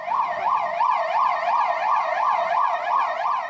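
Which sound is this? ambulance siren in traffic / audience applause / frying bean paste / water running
ambulance siren in traffic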